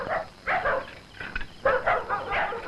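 Dogs bark in several short, loud bursts in two clusters, fairly close, with no talk over them.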